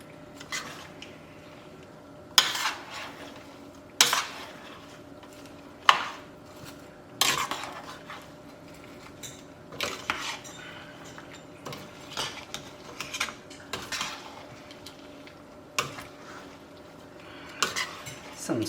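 A spoon stirs jalapeno peppers in brine in a pot, giving light clinks and scrapes that come in a steady rhythm, close and fairly quiet, with no talking.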